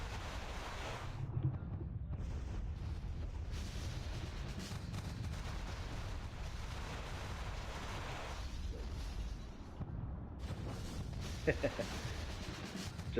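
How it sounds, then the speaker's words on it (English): Ship cannon fire in the video game Tradewinds, low booming rumbles rolling on beneath steady background noise, with a couple of sharper bangs standing out near the start and toward the end. "Just a second after the cannon fire so you can hear me."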